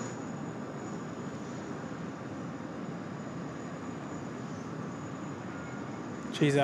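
A QantasLink Boeing 717 jet takes off from Sydney Airport and climbs out, a steady, faint and distant roar that holds evenly throughout, with a brief closer knock at the very end.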